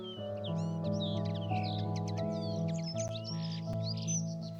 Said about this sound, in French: J'entends dans le lointain pour la première fois la huppe faciée. Un groupe de mouettes rieuses et une corneille noire.